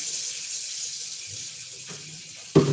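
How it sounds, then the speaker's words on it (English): A kitchen tap runs steadily while hands are washed under it, a close, continuous hiss of water with small splashes and a brief clunk near the end. "Right, I'm just going to quickly wash my hands."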